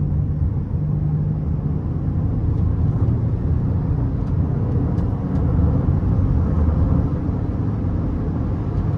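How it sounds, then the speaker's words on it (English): A 2012 Buick Enclave V6 accelerates under throttle, heard from inside the cabin as a steady, loud, low engine and road rumble that holds evenly throughout. "Let's give it some throttle here."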